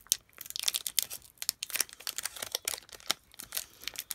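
A Pokemon Cosmic Eclipse booster pack being opened by hand, close and quiet, with a continuous run of crinkling foil and snipping crackles alone.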